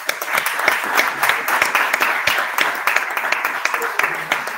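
A crowd applauds steadily throughout, dense clapping from many hands with a few voices mixed in, fairly close and sustained.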